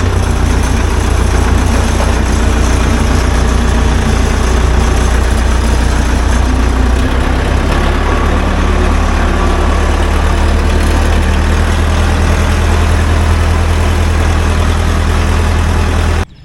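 Backhoe engine and transmission running while the machine moves forward in second gear, a loud, steady low diesel drone with constant mechanical churning throughout, close and without pauses.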